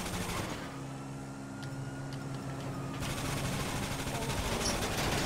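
Rapid bursts of automatic gunfire crackle through a video game police car chase, the shots rattling in quick volleys over a steady engine drone and background game noise.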